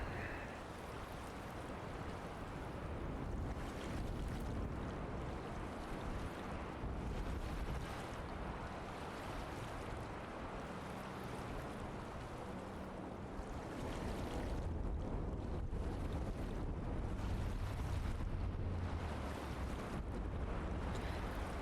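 Water rushes and waves wash steadily in the video game Myst, a broad low roar like surf and wind that swells louder toward the end, with no one speaking.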